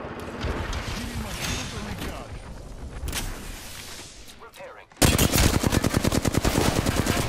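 Video game gunfire: busy combat noise with voices, then from about five seconds a loud, rapid automatic burst of shots fired in quick, steady succession.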